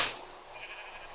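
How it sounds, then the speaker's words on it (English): A sheep bleats in the video game Polycraft, a single short bleat that starts loud and fades into a faint background hum. "I have all the sheep around."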